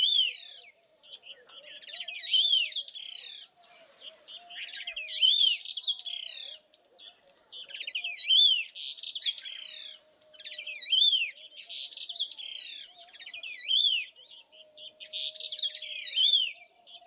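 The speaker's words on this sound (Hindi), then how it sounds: "तो विभिन्न जो चिड़िया हैं उनकी ये मीटिंग का टाइम होता है। तो ये नर और मादा विभिन्न आवाज़ करके एक दूसरे को लुभा रहे हैं।" Courting male and female birds in a Himalayan hill village sing in repeated phrases of bright chirps and whistled notes, fairly loud and close, returning every couple of seconds with no talk.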